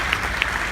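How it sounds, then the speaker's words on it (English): A short, dense burst of audience applause at a large hall event, steady clapping from a crowd with a few sharper claps standing out. "So please give yourselves a round of applause."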